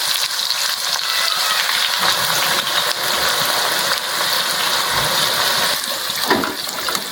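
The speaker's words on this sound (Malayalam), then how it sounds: "ഉള്ളി വറുത്ത് കോരാം" Onions frying in hot oil for chicken biryani give a steady, dense sizzle and bubbling crackle close up, with occasional stirring scrapes through the whole stretch and no talking.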